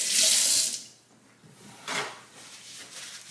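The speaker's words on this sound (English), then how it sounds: "Wash my hands again." Water from a kitchen sink tap gushes loudly at first while hands are washed, then cuts back to quieter splashes and a couple of short bursts of running water, with no talking.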